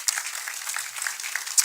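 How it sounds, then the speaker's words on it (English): Applause from a conference audience as panelists leave the stage, heard as a brief, steady patter of clapping that sounds somewhat distant. "To applause, rapturous applause,"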